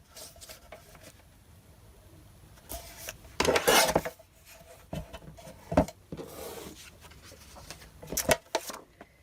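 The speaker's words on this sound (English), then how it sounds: "I'm just going to trim this one down to be 4 1/4 by 5 1/2." Cardstock being cut down on a paper trimmer at a crafting table: a series of close, brief scraping slides and clicks at irregular intervals, with no talking.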